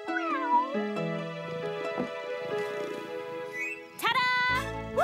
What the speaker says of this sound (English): My kitten is safe and sound.